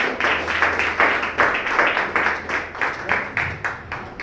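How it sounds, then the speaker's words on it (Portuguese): A church congregation at an evangelical service claps in a steady, even rhythm of repeated sharp claps, loud and close for a few seconds, with faint voices mixed in. "Agradeço a oportunidade e as palmas para vocês."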